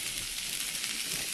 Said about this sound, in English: Oh, we can hear the sizzle there,